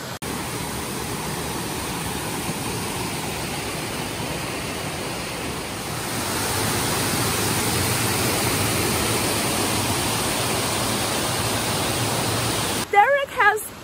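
A waterfall gives a continuous, loud, broadband rushing roar that swells slightly halfway through. Brief voice sounds break in at the very end.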